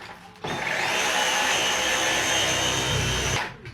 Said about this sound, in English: I need to vacuum the ceiling this morning.